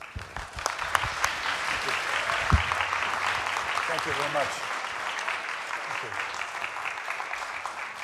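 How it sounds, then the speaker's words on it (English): Sustained applause from a church congregation at a Sunday morning service, a steady dense wash of clapping that runs throughout, with someone briefly speaking over it. "please welcome him with a round of applause"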